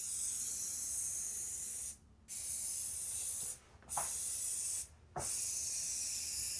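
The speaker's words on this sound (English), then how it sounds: "You can spray this around your door frame." Fly bait spray hisses from a can around a door frame in three long, steady bursts, each cut by a short pause and a faint click of the nozzle, close and clear.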